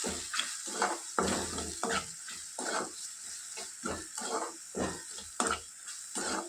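Spices, chilli powder and turmeric crackle and sizzle in hot oil as a tempering for ridge gourd egg curry, with intermittent bursts of spattering and stirring scrapes, close and moderately loud, without talking.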